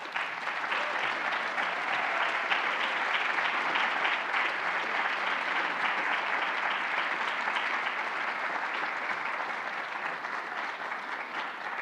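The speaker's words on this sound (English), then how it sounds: "Please join me in another round of applause." Steady, sustained applause from an audience at a YMCA of Southern Maine community awards event, a full even wash of clapping that holds for many seconds at moderate volume.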